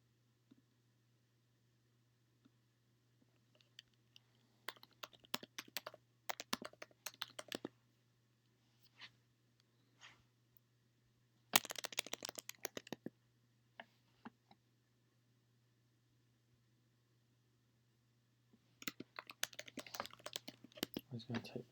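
Computer keyboard typing comes in three short clattering bursts separated by quiet stretches, moderately close, over a steady low electrical hum.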